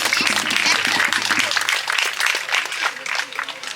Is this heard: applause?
yes